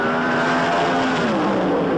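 A 1978 NHRA funny car at a drag race roars at full throttle in a dense, loud, unbroken blast of engine noise that shifts slightly in pitch, heard close and alone.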